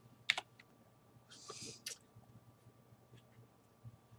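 Quiet computer keyboard typing, a few soft scattered key clicks and a short cluster of presses, faint against a low room hum.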